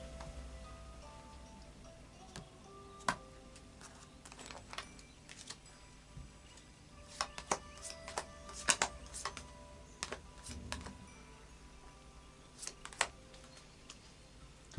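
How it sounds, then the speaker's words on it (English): Quiet, irregular clicks and soft snaps of Wildwood tarot cards being shuffled, in scattered bursts close to the microphone over a faint background hiss. "And the final shuffle of the Nature Wildwood tarot cards"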